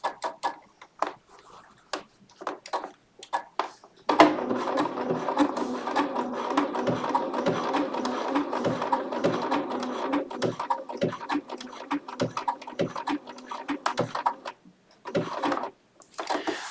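A Bernina travel sewing machine stitches steadily, a dense run of rapid mechanical needle strokes that starts after a few seconds of quieter handling clicks and carries on close and fairly loud to the end.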